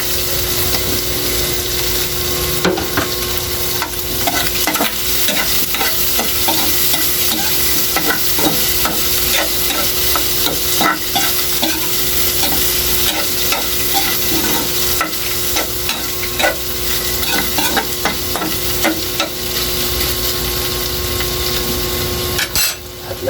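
Green chilies sizzling loudly in a hot pan, stirred steadily with a utensil that scrapes and clicks against the metal over constant frying hiss.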